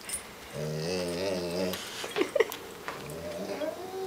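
Comet the dog growling over a bone, a low, wavering rumble held for about a second, followed by a few sharper whimpering or huffing sounds at close range, with some soft voice in the room.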